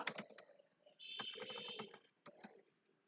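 Quiet computer keyboard typing of Python lambda code, with bursts of rapid clicky keystrokes separated by short pauses, a longer dense run in the middle, and a few isolated taps near the end.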